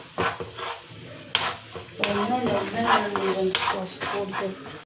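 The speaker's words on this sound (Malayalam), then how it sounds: "ഒരു വലിയ ടേബിൾ സ്പൂൺ മൈദപ്പൊടി ഇട്ട് കൊടുക്കണം. എന്നിട്ട് നന്നായിട്ട് ഇളക്കി കൊടുക്കാം." Maida flour being stirred in a pan with a spoon: repeated metallic scrapes and clinks of the spoon against the pan, close and fairly loud in uneven strokes, with no talk.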